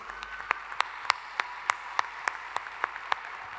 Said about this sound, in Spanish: mi aplauso y el de toda mi banda para todos ustedes.